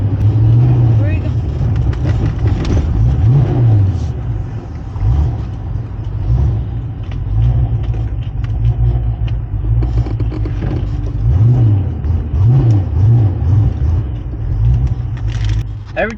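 A Fox Body Ford Mustang engine idles roughly and revs in loud, rumbling surges, with rises and falls in pitch as the throttle blips, close up while people talk over it.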